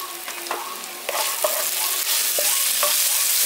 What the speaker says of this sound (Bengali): দিয়ে মশলাটাকে কষিয়ে নিচ্ছি।